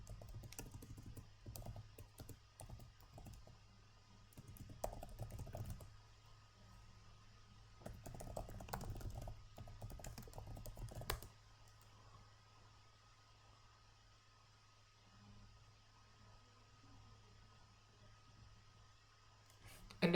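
Quiet clusters of computer keyboard typing come in bursts over a low hum, then stop, leaving faint background noise and occasional soft clicks.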